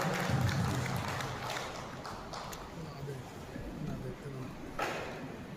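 A crowd claps to welcome a prominent local trader at a GST event in Dhanaura mandi, Amroha. The applause is steady and fairly loud for several seconds, mixed with voices in the room.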